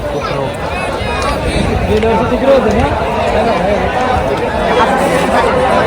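Packed crowd at the traditional Pusegaon Hind Kesari wrestling ground, a continuous roar of chatter and shouting spread across the space while someone speaks loudly on top of it.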